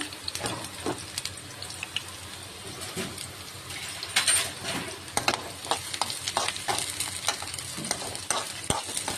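Onions fry in a pan for egg curry, with a continuous sizzle broken by frequent scraping stirs and sharp clicks of a spoon against the pan, up close.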